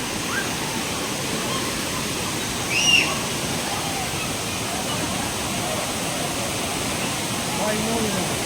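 Steady broadband roar of Anachadikuthu waterfall in Kerala, a dangerous cascade crowded with bathers, filling the scene continuously at close range with a brief louder splash partway through.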